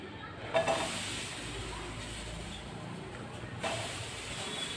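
Green chili pieces dropped onto a hot pan on a stove set off a sudden sizzling hiss that carries on steadily, then flares briefly again near the end, close and moderately loud.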